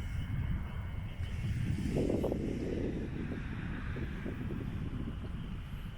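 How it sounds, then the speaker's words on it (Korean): Wind blows across a fishing pond, buffeting the microphone with a continuous low rumble that swells in gusts, loudest around the middle. "바람도 제법 불고"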